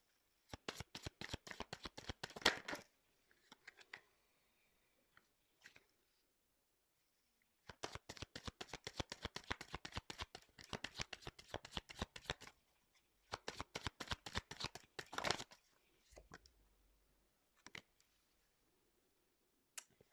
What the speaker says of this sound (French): Je fais mes tirages et après je vous dis ce qu'il en est.